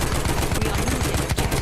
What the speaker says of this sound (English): I feel like the machine guns might be slightly broken